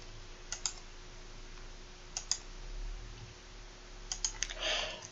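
Faint computer mouse clicks and keyboard presses, including the Shift key, while selecting buttons in software, come as sparse, crisp taps in small clusters at an even distance over a quiet hum.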